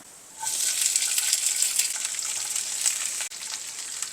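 Capsicum dropped into hot oil with green chilli, ginger and curry leaves, bursting into a loud, steady close sizzle that starts suddenly and runs throughout, with a brief dip near the end.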